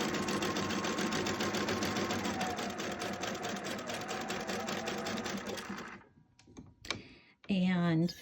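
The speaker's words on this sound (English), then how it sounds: "I'm going to line that up my 1/4 inch. And I'm just going to sew." A sewing machine runs a quarter-inch seam at steady speed for about six seconds, a close, loud rapid mechanical chatter, then stops; brief handling noises and a short voice follow.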